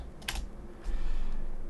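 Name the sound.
typing on a computer keyboard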